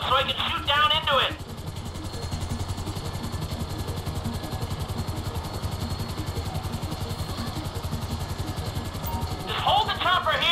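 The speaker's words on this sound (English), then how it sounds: "Just hold the chopper here." Steady, loud rotor thrum of a helicopter hovering in GTA 5, a continuous rhythmic chop throughout, with short bursts of talk at the start and end.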